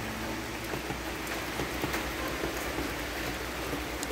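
Steady rainfall hisses evenly, a dense continuous patter with occasional distinct drops, no voices.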